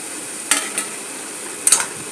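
Leafy greens frying in a pan with water released from the leaves, a soft sizzle underneath a few sharp scraping stirs of a spatula, three quick strokes close by.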